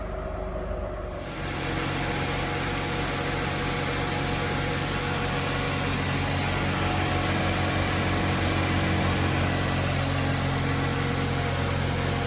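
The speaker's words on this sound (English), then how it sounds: "That engine runs so smooth." A Mercedes W124 engine runs smoothly as the car is driven, a steady mid-pitched hum with broadband road and wind noise that swells in after a brief quieter start and holds constant.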